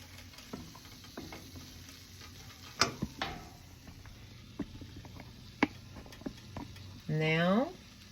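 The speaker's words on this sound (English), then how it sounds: "let the chorizo cook and let the flavors meld together" Vegan chorizo tofu scramble frying in a pan, soft continuous sizzle with sharp utensil clicks and scrapes, followed by a voice speaking at the end.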